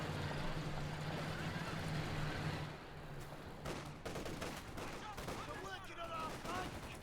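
Artillery and gunfire in the video game Company of Heroes 2, a dense barrage of booms and bursts followed by scattered shots, with a commentator talking over it.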